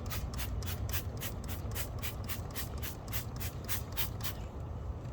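A car wheel and its barrels are sprayed down with wheel cleaner in quick repeated bursts, about a dozen close hissing sprays in steady rhythm with no talking.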